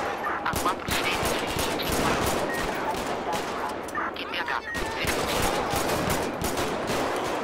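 Rapid bursts of gunfire in GTA 5 crackle continuously, dense automatic fire mixed with single shots, loud and close throughout, with voices partly audible underneath.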